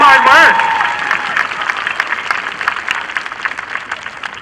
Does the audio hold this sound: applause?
yes